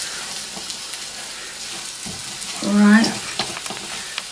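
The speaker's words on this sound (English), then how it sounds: "all I can do about this now is just keep stirring it" Rice frying and being stirred in a pan gives a steady sizzle with scraping stirs and a brief louder burst near the end, and someone says a single word.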